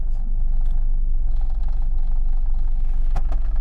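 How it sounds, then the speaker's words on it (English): A loud car drives along with a constant low engine drone and road rumble, a couple of brief sharper knocks or scrapes near the end. "Why is my car so loud right now?"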